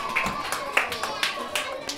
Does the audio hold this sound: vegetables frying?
no